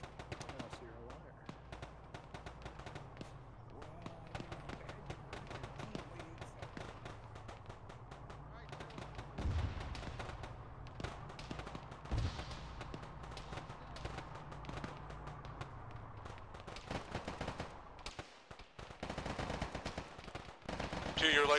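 Gunfire in the Arma ShackTac Fallujah mission: bursts of automatic fire and scattered shots, some near and some distant, rattling over a low rumble while players talk over radio.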